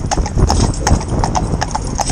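A black Gelderlander horse being trained for pair work clip-clops on a hard surface, its sharp hoof strikes close and loud in a steady, even rhythm.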